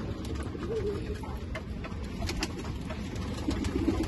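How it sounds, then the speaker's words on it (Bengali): King pigeons cooing in a loft as a flock feeds: soft, low coos close by under a voice, with fluttering and scattered light taps. "কিং কবুতরে ও হচ্ছে এই যে এখানে কবুতরগুলা খাবার খাচ্ছে"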